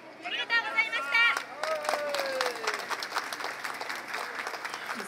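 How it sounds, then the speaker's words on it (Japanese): Festival audience applauding after a yosakoi and new-style dance performance at a roadside station, broad sustained clapping swelling from the crowd, with a voice talking over the start. "盛大な拍手が沸き起こっております。"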